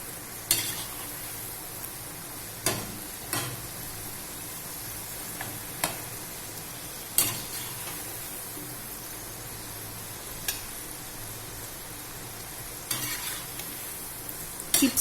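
Potatoes frying in oil in a pan for sabudana khichadi, a constant hiss of sizzling with regular knocks and scrapes of a spoon stirring against the metal, and no voices.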